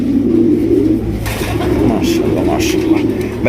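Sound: Raj Golla pigeon cooing

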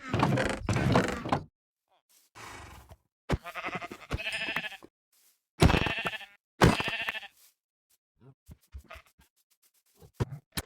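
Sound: sheep bleating in Minecraft Ice and Fire mod, video game

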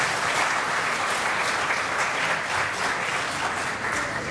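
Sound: theatre audience applause

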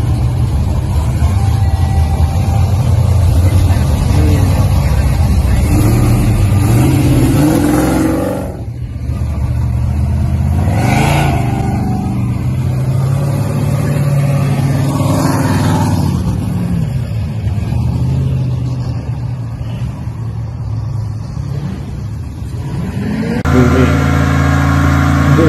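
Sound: Chevy donk car engine revving while riding at night

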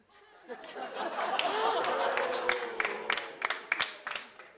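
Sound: audience applause

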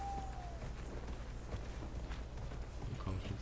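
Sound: horse hoofbeats in video game Dragon Age Inquisition

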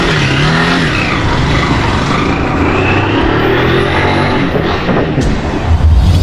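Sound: motorcycle starting and revving

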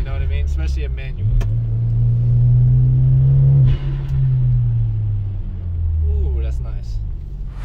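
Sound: 2014 Hyundai Genesis 2.0 Turbo coupe engine while driving

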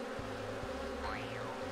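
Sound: bees buzzing in a Winnie the Pooh PC video game

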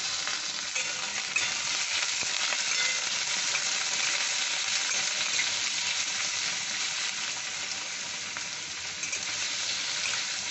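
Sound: raw potato pieces frying in a pan

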